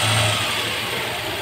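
Toyota Land Cruiser V8 with a 2UZ-FE engine, after a water pump replacement, running close by with a steady smooth engine hum, briefly heavier at the start before settling to an even idle.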